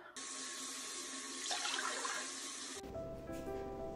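Warm water runs steadily from a tap into a bowl for bread dough, a continuous hissing splash that ends abruptly as the flow stops, followed by faint kitchen clatter.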